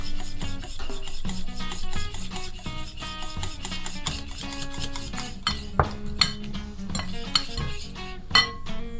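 Utensil clinks and stirs steadily in a bowl as homemade olive oil mayonnaise is mixed for potato salad, with sharper scraping accents near the end over a faint musical bed.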